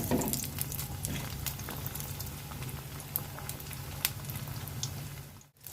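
Veg cutlet tikki frying in hot oil in a pan over low flame, a soft continuous bubbling sizzle with scattered pops, fairly quiet and steady throughout.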